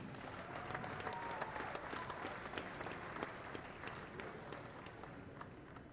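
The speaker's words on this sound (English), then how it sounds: "one more big round of applause, please, for our alumni here at South Floyd High School" A crowd in a high school gym applauds alumni at a basketball game, with a continuous wash of clapping and scattered cheers that sounds faint and distant.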